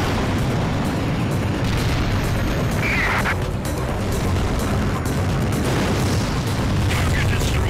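Heavy booming explosion blasts from a destroyed target in the flight combat game Ace Combat 3D, dense continuous rumble filling the whole stretch at loud level.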